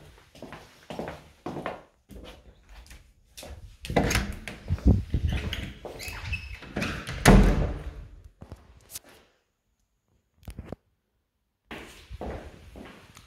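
An interior door in a move-in house is opened and closed during a walkthrough, with several thuds, latch clicks and footsteps in irregular bursts, then a brief silence and a few softer knocks.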